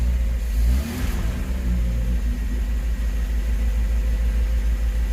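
A Lada engine catches and starts, then runs on choke, a loud rumbling idle with a brief rev near the start settling into a steady low drone.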